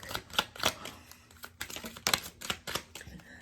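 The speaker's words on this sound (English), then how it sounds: "let me pull you a couple of cards from the Kipper deck" Cards from a Kipper fortune-telling deck are shuffled and drawn, making a quick run of crisp, close clicks and snaps that come in irregular bursts.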